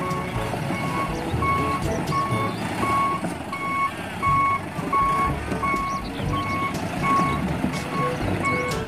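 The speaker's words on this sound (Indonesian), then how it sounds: "ini mobil dump truck teman." Dump truck reverse alarm sounding repeated steady beeps at an even rhythm, about ten or more in a row, over a loud rumbling engine and traffic background, close and prominent.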